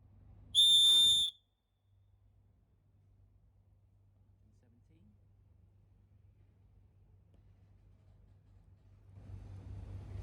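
A 3D-printed emergency whistle is blown once in a sharp, shrill burst of under a second, followed by near silence and then rising outdoor noise.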